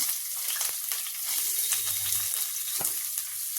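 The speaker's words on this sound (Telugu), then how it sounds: "ఉల్లిపాయలు ఫ్రై చేసుకున్నాం" Chopped onion with green chillies, whole garam masala and a bay leaf frying in hot oil in a pan, a steady close sizzle with occasional stirring scrapes and soft pops, no voices.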